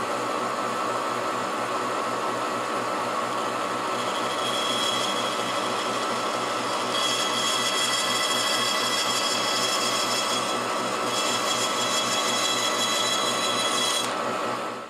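A bandsaw cuts cuff-banding pieces from a wood block with a continuous, even rasping hiss as the stock is fed steadily through the blade, close and unbroken for the whole stretch.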